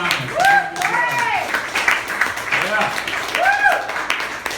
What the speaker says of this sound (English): Round of applause for the comments.